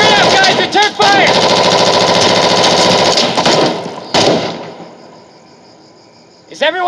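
Intense automatic gunfire in an Insurgency video game firefight, rapid dense bursts loud and close, with shouted voices mixed in, fading to quieter background shots before another burst at the end.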